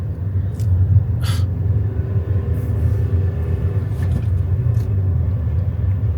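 Small, low-powered car engine straining uphill in a low gear, a steady droning rumble that stays close and continuous throughout, with a few faint clicks and no talking.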